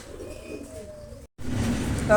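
Pigeons of a small female group coo softly in a loft, low murmuring calls under a faint background hum, broken by a brief silent gap before a louder stretch of cooing.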